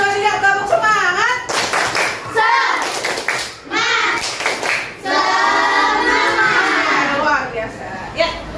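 A class of children claps a rhythmic spirit cheer together in a classroom, loud bursts of clapping mixed with children's voices and speech throughout.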